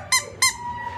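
A squeaky toy squeezed twice in quick succession, each a short, loud, bright squeak, close by against a quiet indoor background at an animal shelter.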